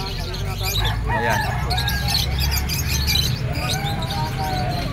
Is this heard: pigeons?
yes